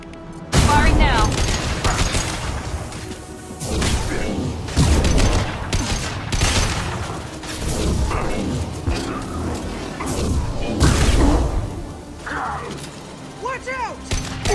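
Sci-fi gunfire and explosions from the Mass Effect 2 video game, sustained bursts of shots and mechanical clatter running through the whole stretch, loud and dense, with voices speaking over the combat.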